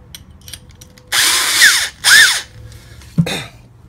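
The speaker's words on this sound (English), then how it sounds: "along the edge here, and drill in a hole." A power drill fitted with a 7/8-inch bit bores a hole near the edge of a plastic 5-gallon bucket, in two close whining bursts of about a second each, followed by a short clunk.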